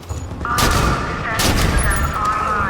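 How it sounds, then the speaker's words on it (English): Gunfire and sniper shots in the Halo video game, a burst of shots followed by sharp cracks and booms with a ringing tone, loud and close, mixed with voices. "Holy hell, I keep getting sniped."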